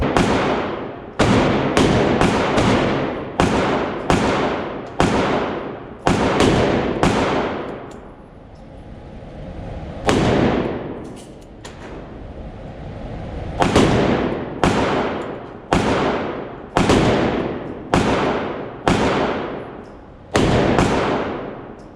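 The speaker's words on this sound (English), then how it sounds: "let's try these 357 Magnum loads now and see how they match up" A Chiappa Rhino 200DS revolver fires .357 Magnum loads: about fifteen loud, sharp shots in uneven spacing, each blast trailing off in echo, with a longer pause midway.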